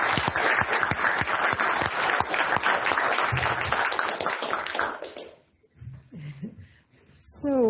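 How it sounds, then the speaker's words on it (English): A conference audience at a Belgian-Portuguese blue economy event gives a round of applause: close, lively clapping for about five seconds, then it fades and a voice speaks briefly. "So I think they deserve a big applause"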